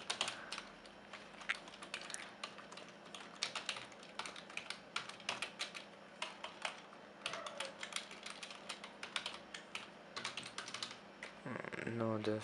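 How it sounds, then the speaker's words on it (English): Rapid clicking keystrokes on a computer keyboard, quiet and steady with brief pauses between bursts, and a short tonal sound near the end. "For example, I'm typing"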